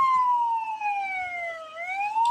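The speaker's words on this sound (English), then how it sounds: "That turns on the sirens for the ambulance, police cars," A single emergency siren from a vehicle light bar in BeamNG.drive wails in a clean, close, loud sweep, gliding slowly down in pitch, then rising again, with no voices over it.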